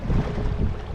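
Strong sea wind buffets a small fishing boat out on the water, a loud, dense, low rumble that roars continuously without pause.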